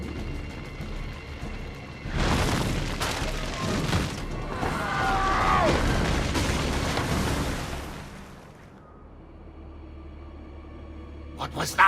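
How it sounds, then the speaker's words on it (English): Muffled explosion-like bangs rumble through a cutscene from the video game Assassin's Creed 2, a loud burst lasting several seconds amid ambient noise, then fading, with a few sharp cracks at the end. "Probably just kids with firecrackers."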